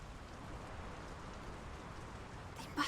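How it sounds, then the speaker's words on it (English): Steady rain in the video game Draugen, a continuous even hiss of falling drops with no voices, plus a brief clatter right at the end. "The rain's picking up."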